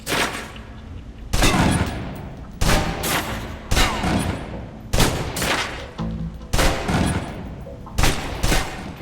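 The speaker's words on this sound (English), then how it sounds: "Now, let's move on to the submachine gun. Now let's empty the clip." A submachine gun is emptied in Alpha Protocol at a firing range, with loud, close bursts of automatic fire repeating about every second over a steady background hum, with no talking.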